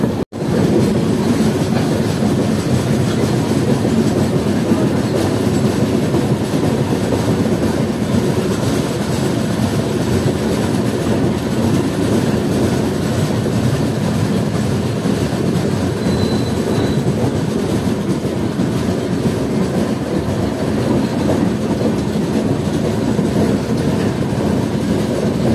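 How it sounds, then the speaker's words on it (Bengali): The Darbhanga Maithili Express rolls into Asansol Junction with a loud, unbroken rumble of wheels and carriages. Faint squeals and rattles come from the track throughout. "ফাইনালি আমাদের ট্রেন এখন ঢুকছে আসানসোল জংশন"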